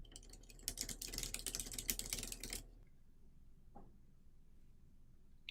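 Burst of quick keystrokes on a computer keyboard as a memo name is typed, dense clicking for about two and a half seconds, then quiet with one faint tap later.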